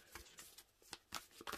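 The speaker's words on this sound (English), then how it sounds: "Shuffle. It shuffles brilliantly." A tarot deck from Liminal 11 is shuffled by hand close up, with a series of crisp riffling bursts in an uneven rhythm and short gaps between them.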